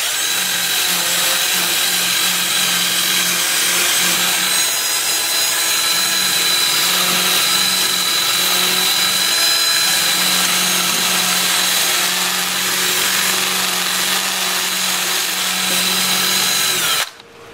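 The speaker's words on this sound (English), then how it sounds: "I'll switch to my 2-inch disc starting at 80 grit, working up through 400, and I'll have the lathe spinning in reverse at about 400 RPM" A wood lathe runs in reverse at about 400 RPM while a 2-inch sanding disc works the turning, a loud continuous whirring drone with a steady low hum that holds for the whole stretch and cuts off abruptly at the end.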